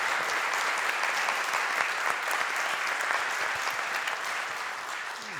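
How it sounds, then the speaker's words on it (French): Conference audience at a talk on the Tihange 1 nuclear reactor extension gives a steady round of applause, a dense, moderately distant patter of many hands that stays even for the whole stretch. "Encore une fois, une petite salve d'applaudissements."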